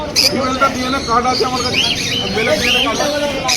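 Exotic birds chirp and tweet in repeated high calls at a busy bird market in West Bengal, close and lively over a crowd's chatter and nearby talking.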